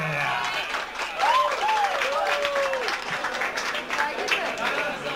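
Applause from an audience at a school graduation ball rattles on steadily beneath voices and shouting.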